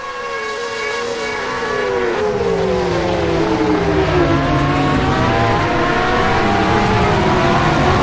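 Porsche race cars in a multiclass endurance sim racing game, engines whining loudly and continuously with rising and falling pitch as several cars pass and shift gears.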